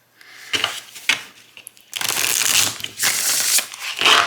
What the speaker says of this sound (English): Love the shuffle here.